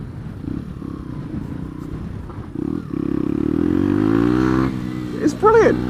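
A Lexmoto Adrenaline 125cc motorcycle riding off-road across grass, its engine droning and then revving steadily upward, with a brief voice near the end.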